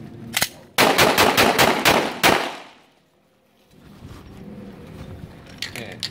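Rapid bursts of gunfire at a human-shaped shooting target, a single shot followed by a fast, loud string of closely spaced reports, then quiet and a low murmur of background sound.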